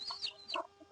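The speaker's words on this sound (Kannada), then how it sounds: "ನೋಡ್ತಿರ್ಬೋದು ಯಾವ ರೀತಿ ಮರುಗಳು ಮೇಯ್ತಿದೆ ಅಂತ" Young native chicks cluck and peep in quick, faint bursts while pecking at crushed maize, several short calls scattered through the second with no talking.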